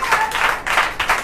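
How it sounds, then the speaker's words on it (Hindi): A church congregation at a Holy Wednesday service claps loudly and close up in rhythmic bursts, about three hand-clap groups per second in unison. "आइए जोरदार ताली के द्वारा धन्यवाद दें।"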